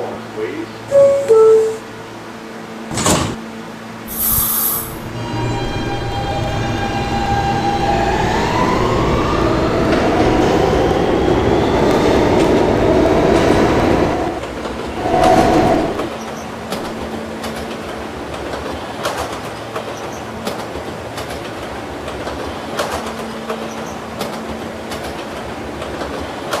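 A Kawasaki R160 E subway train running toward Union Turnpike, with a rising then falling motor whine, clattering wheels and rumble over rails, punctuated by sharp loud bursts and door chimes, with announcement voices speaking in places.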